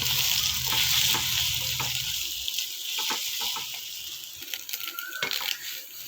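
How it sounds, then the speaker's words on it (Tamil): Eggs fry in a pan with salt added, a hissing sizzle that starts loud and then settles, while a utensil scrapes and taps against the pan in irregular bursts nearby. "முட்டை உடைச்சி ஊற்றின உடனே அதுக்கு தேவையான சால்ட்டு சேர்த்து நல்லா முட்டை வதக்குற அளவுக்கு வதக்கணும்."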